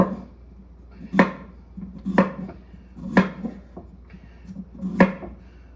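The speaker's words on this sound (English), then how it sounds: "we're going to cut that end off and continue slicing" A knife slices through potatoes on a cutting board in sharp, close chops, about five firm strokes at roughly one-second intervals, each hitting the wood with a short thud and a light scrape between cuts.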